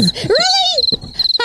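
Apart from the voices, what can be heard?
cricket chirping sound effect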